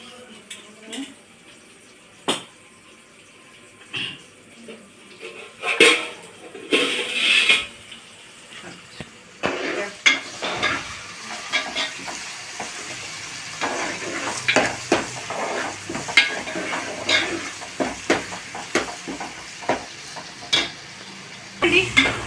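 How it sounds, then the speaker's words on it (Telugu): Food frying and being stirred in a pan for fish curry, with a steady sizzle broken by repeated scraping and clinking stir strokes, plus occasional water sounds nearby. "బాగా వేగిపోయినాయి చూసారా, ఈ కలర్ వచ్చేదాకా ఉంచుకోవాలన్నమాట మనం"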